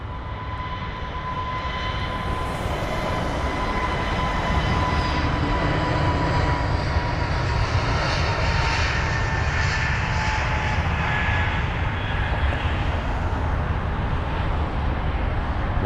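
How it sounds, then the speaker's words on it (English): An Emirates Airbus A380 lands at London Heathrow, its jet engines giving a steady, loud, broad roar that holds for the whole stretch without easing, with no voices over it. "we've also got an arriving Emirates A380"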